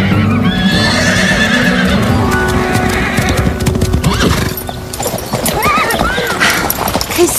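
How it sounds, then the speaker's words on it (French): Horse galloping in a paddock, heard as loud rhythmic hoofbeats with neighing and whinnies over a busy outdoor backdrop, while voices talk partway through. "je vais la mettre dans le paddock pour qu'elle galope un peu"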